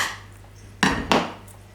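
A slice of chocolate raspberry slice is set down on a small plate, giving two quick, close clinks of plate and utensil in a quiet kitchen.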